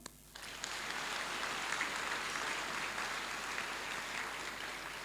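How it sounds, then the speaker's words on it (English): A hall audience at a Centre for Foundation Studies welcoming ceremony breaks into applause after a short quiet start. The clapping is a broad, even and sustained roar that carries through to the end. "a round of applause to all of you"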